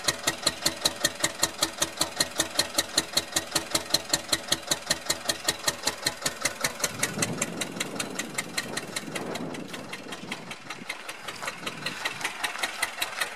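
A Metro Listeroid 6/1 single-cylinder diesel genset idles with a slow, steady, evenly spaced thumping beat, heard from outside the engine room, while a brief burst of louder noise passes midway through.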